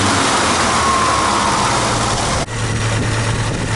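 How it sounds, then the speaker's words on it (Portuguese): A 1978 Chevrolet Opala engine runs unevenly with an oscillating idle, thought to be caused by its ignition system, a loud close rumble with a brief dip before the drone resumes. "o motor tivesse esse funcionamento irregular"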